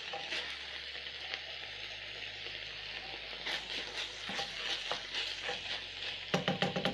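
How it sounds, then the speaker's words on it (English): A spoon stirs Worcestershire sauce into sizzling meat pie filling in a pan, a steady close frying hiss with a run of scraping, clinking stirs near the end, over a low background hum. "Stir in the sauce into the meat."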